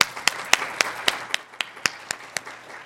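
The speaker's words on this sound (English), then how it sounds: "I'm going to applaud you for that." A single person in the audience at a community meeting claps at an even, quick rhythm, about a dozen sharp, close claps in a row with no talking.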